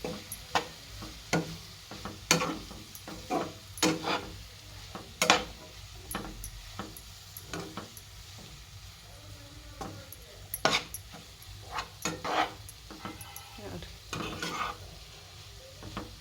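Coriander gets mixed into avarekalu chitranna rice in a pan, with a series of sharp spoon scrapes and clinks against the metal over a faint background sizzle, irregular and close.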